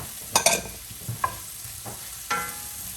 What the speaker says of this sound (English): We're stirring to get all that flavor.